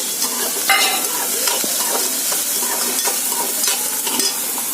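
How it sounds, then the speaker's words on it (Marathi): Onion and tomato being sautéed in a pan for a vegetable dish, with a steady close sizzle and repeated scraping strokes of a spatula stirring throughout. "आता परतून घेऊया का थोडंसं ठीक आहे मी परतते हां"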